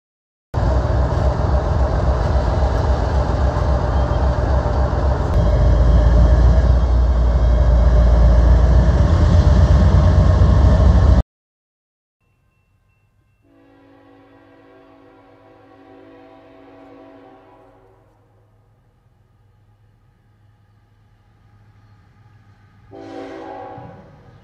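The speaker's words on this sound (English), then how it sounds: "so let's check out some trains today." A long train thunders past close by for about eleven seconds, loud and steady, then stops abruptly; after a pause a quieter low rumble with a faint horn-like tone follows, and a brief louder burst comes near the end.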